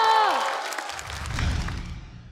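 A theatre audience at a stand-up comedy competition applauds as a comedian is called to the stage, a steady wash of clapping that follows a brief voice and fades slightly toward the end.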